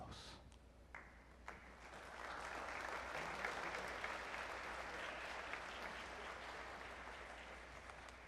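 An audience at a high school all-star orchestra concert applauds the conductor, a steady wash of clapping that swells after the first couple of seconds and holds, heard faintly from a distance with a voice at the start.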